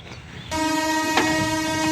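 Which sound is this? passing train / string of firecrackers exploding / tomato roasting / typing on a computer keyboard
passing train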